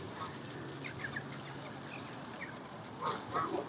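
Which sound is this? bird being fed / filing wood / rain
bird being fed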